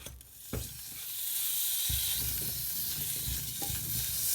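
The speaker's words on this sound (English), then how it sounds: "then just dry fry it in a pan" Garlic-infused beans dry fry in a pan for a bean pie, a steady close hiss and crackle with a few scraping stirs throughout.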